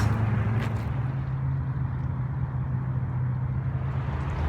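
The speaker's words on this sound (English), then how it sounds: "It's a little noisy right here because I'm fishing right by the freeway" Freeway traffic beside the California Aqueduct in Hesperia, California: a constant, moderately loud roar with a steady low hum and no distinct passing vehicles.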